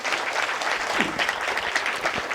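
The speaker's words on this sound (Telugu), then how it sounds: "గట్టిగా చప్పట్లు కొడదాం మేడంకి." An audience claps loudly and steadily at a youth talk event, a dense continuous wash of applause for a couple of seconds with no voices over it.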